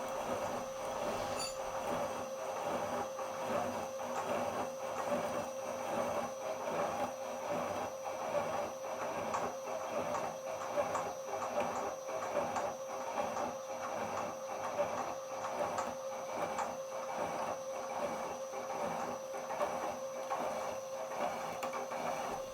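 Slitting saw on a rigid arbor cutting metal in a milling machine, lubricated with cutting oil, gives a steady, loud mechanical whir with fast regular tooth chatter throughout, no voices.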